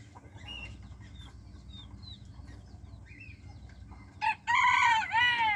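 A European white silkie rooster crows loudly and close at the end, preceded by soft clucks and faint birdsong over a low background rumble.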